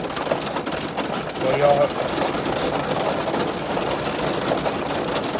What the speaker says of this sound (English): The storm just hit, obviously, just now.